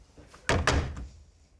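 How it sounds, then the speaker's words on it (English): Knocking on a door in a studio game-show setting: two heavy, close raps in quick succession, loud and alone, followed by a fading thump. "when someone knocks your door, like, knock, knock"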